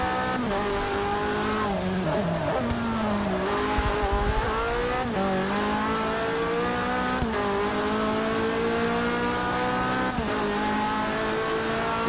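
Race cars lapping Sebring International Raceway in Forza Motorsport 6, with a steady, loud engine drone whose pitch sweeps up and down through gear shifts for the whole stretch, joined by occasional tire squeal.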